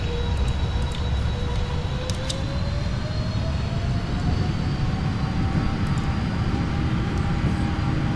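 Boeing 777 jet engines spool up to takeoff thrust in the PMDG flight simulator, a loud, steady roar with a whine rising slowly in pitch, continuous throughout with no talk.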